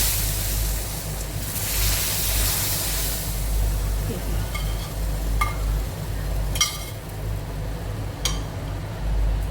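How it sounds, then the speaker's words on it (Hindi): Loud sizzle and crackle as hot spice tempering is poured into besan kadhi curry, over a low rumbling background with a few sharp clinks and scrapes. "अब मैं कड़ी में तड़का मार देती हूँ।"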